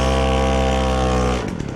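A Motobecane 88 moped, freshly reassembled and still being run in, runs with a loud, steady two-stroke buzz that cuts out abruptly near the end, leaving a few uneven sputters and knocks.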